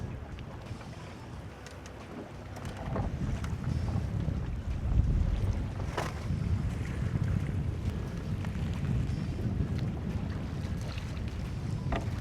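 Wind blows across Old Hickory Lake around a fishing boat, buffeting the microphone with low rumbling gusts that rise and fall under faint lapping water.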